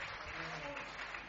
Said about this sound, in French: Est-ce qu'on peut l'encourager avec des applaudissements?